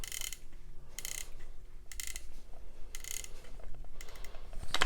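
The action of a Remington Model 31L pump shotgun is worked by hand, giving a few sharp metallic clacks and ratcheting clicks in separate bursts, close and fairly quiet with no talk.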